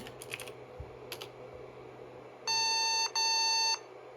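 Keys clacking in short bursts on the keyboard of a 1991 laptop, a few quick taps close up, followed by two long electronic beeps from the machine.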